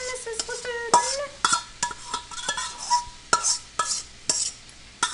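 Sauce being stirred in a skillet over low heat brings repeated sharp clinks and scrapes of a utensil against the pan, close up and uneven, over a faint sizzle.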